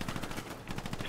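Rapid bursts of automatic gunfire from a sniping shooter video game rattle close and loud, in two quick volleys with a short gap between them.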